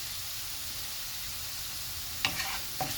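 Cumin (jeera) seeds drop into hot oil over a steady background hiss, raising two brief bursts of sizzling near the end, fairly quiet overall.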